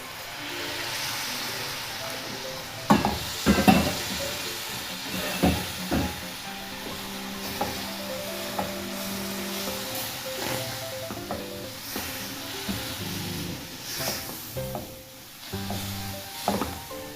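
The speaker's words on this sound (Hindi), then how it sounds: "शीरा और सूजी अच्छी तरीके से हो गई अब मिक्स। इसमें अब मैं तकरीबन ये 2 मिनट इसको अच्छी तरीके से और भूनूंगी।" Semolina halwa with sugar syrup is stirred and roasted in a pan, giving a soft continuous sizzle broken by scraping spoon strokes and occasional knocks against the vessel, close and moderately loud.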